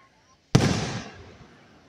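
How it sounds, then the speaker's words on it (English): A single firework bursts at a farm show with a deep boom, then its echo rolls off and fades over the following second. "I never knew they had fireworks and all this."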